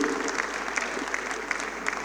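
Audience applause at a Sir Syed Day celebration gathering, a steady, dense clapping from a crowd of many hands, sustained evenly throughout without letup.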